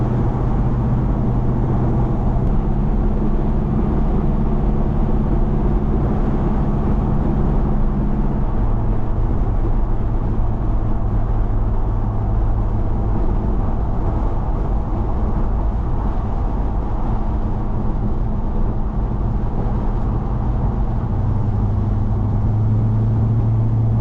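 A 1971 GMC truck with transmission trouble drives down the road, its engine droning steadily and loudly close by, with shifting low tones and no talking.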